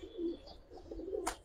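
Indian high flyer pigeons with cumin-coloured throats coo softly up close, a few low throaty murmurs followed by a brief sharp flutter near the end.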